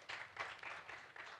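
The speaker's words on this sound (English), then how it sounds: "A warm round of applause." A warm round of applause rises from a conference audience, a soft, fairly distant wash of many hands clapping that swells and eases in waves with no talking over it.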